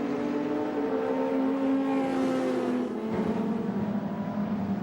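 A 1987 Group A touring car race at Amaroo Park, with a Nissan Skyline in the field: a loud, steady engine drone holds near and constant, with pitch shifting slightly as the cars accelerate out of a corner.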